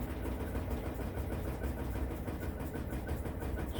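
An Amana washing machine runs on its rinse cycle, its lid locked: a steady low mechanical hum and churn, even and continuous at moderate level with no talk.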